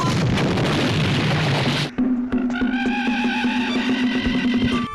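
A cannon fires in a loud, dense blast of noise lasting about two seconds that cuts off abruptly, followed by a sustained ringing, whistling tone with scattered sharp clicks.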